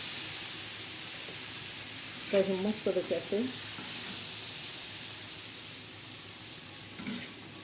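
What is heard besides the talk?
bitter gourd slices sizzling as they fry with a little water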